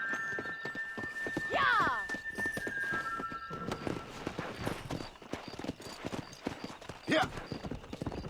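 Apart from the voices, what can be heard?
horse riding at a gallop in video game Red Dead Redemption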